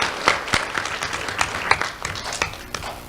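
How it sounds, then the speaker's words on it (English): An audience applauds its event sponsors, LCEC and Alliance Financial Group, at the April 2024 Do the Right Thing student awards, producing steady mid-level clapping with scattered sharper claps across the whole stretch. "Let's have a round of applause for our major sponsors, LCEC and Alliance Financial Group."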